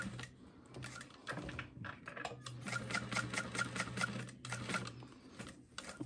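A sewing machine bastes foam onto a vinyl wristlet, its needle running in steady rapid bursts with short pauses between stitching runs, close and clear with no talking.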